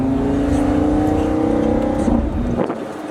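Lamborghini Gallardo running VF Engineering software revs loudly from the cabin while driving, a steady rising engine drone that climbs, then drops sharply as a gear shift cuts in.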